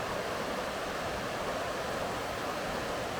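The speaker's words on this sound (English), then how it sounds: "I love when the water like goes around the rocks and stuff like that." Stream water rushing and swirling around rocks near a waterfall on a forest trail loop in North Carolina, a steady, dense broadband wash that stays loud and even from start to finish with no voices.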